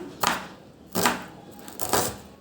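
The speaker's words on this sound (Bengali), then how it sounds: "খুব দ্রুত করে কাটতেছি।" A knife chops food quickly on a cutting board for village-style cooking, giving three distinct, evenly spaced thuds, close and clear with no voices.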